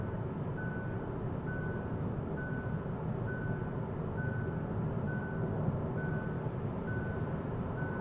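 Repeating warning beeps from a Hyundai driver-assist system inside a moving car, an evenly spaced series of short tones over steady road and cabin rumble.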